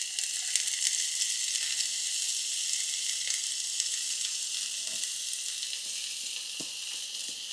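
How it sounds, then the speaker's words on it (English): Shallots sauté in a hot pan for herb-crusted sea bass, a bright, even hiss of sizzling oil throughout with a few faint utensil taps, no one talking. "Now we're gonna add the shallots."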